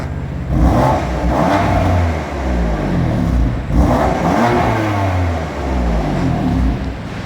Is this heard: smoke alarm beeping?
no